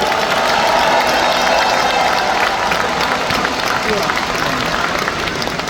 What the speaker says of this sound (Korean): 힘찬 응원과 격려의 박수 부탁드립니다